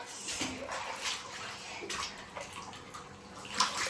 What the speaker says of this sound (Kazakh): Шашпандар не жаққа су төгіліп кетіп жатыр.